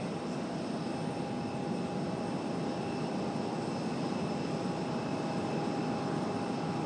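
Airbus A350 airliner at Raleigh Durham airport, a steady loud engine roar with a sustained whine from a distance, continuous and without talk.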